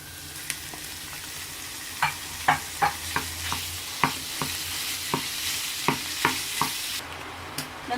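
Minced meat fries in a pan for an Indian-style samosa filling with garlic and onion. A steady sizzle runs underneath while a spoon scrapes and taps the pan again and again, all close up and with no voices.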